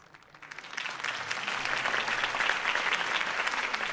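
A crowd applauds after Harvey Dent's campaign speech in a Batman video game, a steady wash of clapping that swells within the first half second and stays dense and even with no talking.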